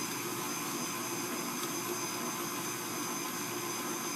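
An electric mixer runs in a home kitchen during baking, giving a loud, steady motor whir that holds unbroken from start to finish with no voices.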